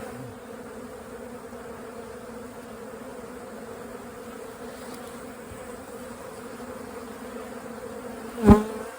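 A honeybee colony hums in an opened hive in cold weather, a steady low buzzing drone throughout with a brief louder knock near the end, no talking.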